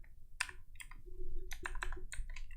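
A computer keyboard clicks as a shortcut is pressed, a handful of crisp, close keystrokes in an uneven rhythm over a quiet room.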